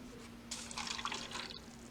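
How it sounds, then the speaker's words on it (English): Water pouring from one cup into another cup holding sodium polyacrylate: a short splashy trickle of about one second, close and quiet, with no talking. "pour the water from this cup into the sodium polyacrylate cup"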